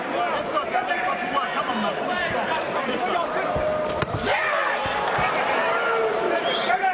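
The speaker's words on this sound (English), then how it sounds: "Crowd responding to that last punch by Chisora" A boxing arena crowd at a heavyweight bout between Vitali Klitschko and Dereck Chisora, a dense steady roar of cheering and chatter with a sharp bang in the middle, commentary talking over it.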